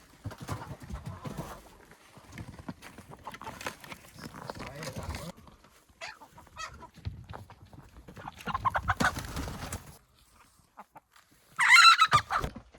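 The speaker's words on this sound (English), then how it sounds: "we're putting all 27 of our chickens in this one coop" Chickens in a coop holding 27 birds: scattered clucks and calls, faint to moderate, with a louder burst near the end, mixed with people talking.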